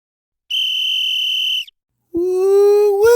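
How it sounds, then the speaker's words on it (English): Two sharp whistle blasts signal game time: a high steady tone held for about a second, a pause, then a lower, louder, slightly rising blast at close range. "You know what that whistle means. It's game time."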